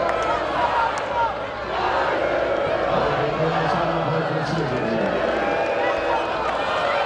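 Dense, loud roar of a Washington home crowd at a women's college ultimate frisbee semifinal, Carleton versus Washington, filling the whole stretch with steady cheering and shouting, with commentary voices over it.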